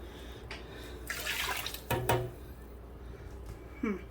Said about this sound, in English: I'm going to fill the cans up and start with adding some water